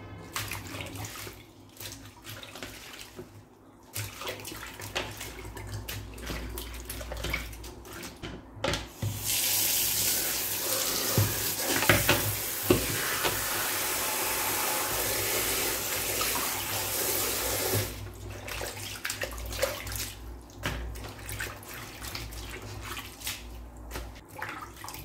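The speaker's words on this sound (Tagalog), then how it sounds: "Naglagay uli ako ng tubig. Ito naman ang pangalawang hugas para sa ating mga gulay." Vegetables being washed under running tap water for a second rinse, a steady gush of water into a sink that starts and stops, fairly close, with no talking.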